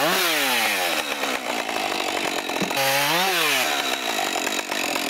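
Chainsaw milling a log into lumber boards, engine held at a loud steady whine with pitch dips and rises as the bar bites and frees in the wood, continuous throughout with no talk.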